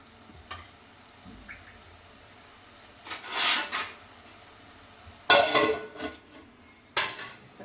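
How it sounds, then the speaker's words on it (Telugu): A metal lid set onto a pot of cooking tomato pulp, a few sharp clinks and clatters of metal on metal, close by, separated by quiet gaps. "ఇప్పుడు నేను మూత వేస్తాను"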